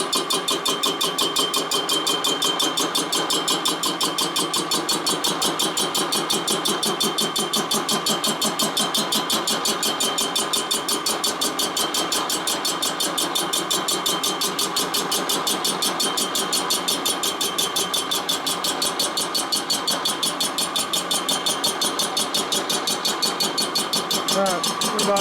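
A cylinder boring machine cuts a flathead Harley WL 45 cylinder on a 1941 stroker build, a loud, steady mechanical drone with rapid regular pulsing that holds unchanged for the full length.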